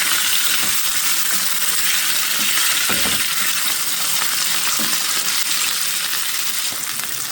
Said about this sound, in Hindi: इसमें मटन शामिल करेंगे और अच्छे से इसको हम फ्राई करेंगे